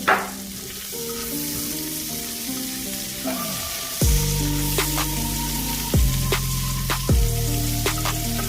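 Onions sizzling in hot bacon fat for bourbon bacon jam, a loud, close, steady frying hiss with occasional bursts of spitting as the pan is stirred and more onions go in.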